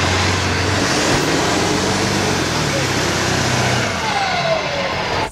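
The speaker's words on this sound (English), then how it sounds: "let's see if the truck can do a burnout on the ATF" A Ford F-350 diesel truck running on automatic transmission fluid roars loudly and steadily at high revs during a burnout attempt, close by, the engine note dropping away right at the end.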